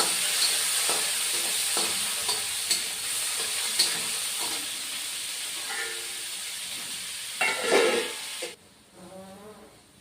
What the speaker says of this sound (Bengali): এখন ওই তেলের মধ্যে আবার আলু গুলিয়ে দিয়ে দিই আলুটাও ভেজে নিচ্ছি